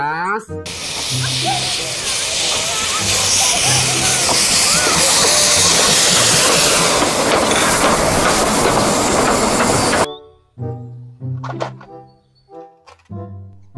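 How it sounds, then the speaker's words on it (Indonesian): A Thomas toy train runs with a loud, steady whirring rattle for about ten seconds before stopping abruptly, followed by a voice speaking. "Kereta Thomas."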